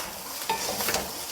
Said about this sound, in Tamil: இப்போ இது 2 சேர்த்து நல்லா கிளறி விடுங்க